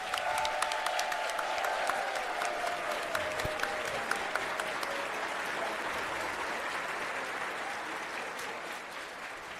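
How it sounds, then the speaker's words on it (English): Applause from an audience at a fighting game tournament finals day fills the space, a dense, steady clatter of clapping with a few sharper claps and cheers that slowly tapers off. "I want y'all to give yourselves a round of applause"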